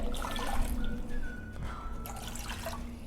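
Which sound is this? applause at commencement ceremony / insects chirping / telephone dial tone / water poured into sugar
water poured into sugar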